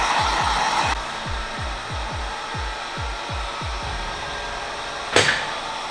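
A heat gun warming seat cover material and frame tape blows with a steady hiss for about a second. A run of rhythmic low thumps follows, then the gun roars back in a short burst near the end.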